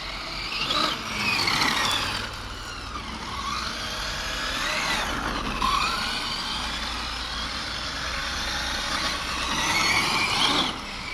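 A Hobao 1/7 El Camino 8s electric RC car driving on a track, its high motor whine rising and falling as it passes near and away.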